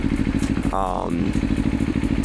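A Kawasaki Ninja 500 motorcycle engine hums with a rhythmic, pulsing drone on the road, likely while downshifting and engine braking, heard close and steady under someone talking.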